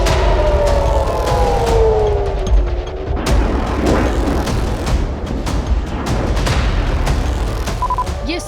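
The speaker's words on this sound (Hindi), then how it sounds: "ये सायरन की आवाजें युद्ध की घोषणा कर रही हैं।" Air-raid sirens wail at midnight during the Iran-Israel war, rising and falling in overlapping tones at a distance, over rumbling noise and scattered sharp knocks.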